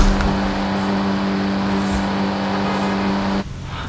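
Honda Civic Type R in the Forza Horizon 5 racing game, its engine droning steadily at a loud, sustained pitch while driving, then cutting off abruptly near the end.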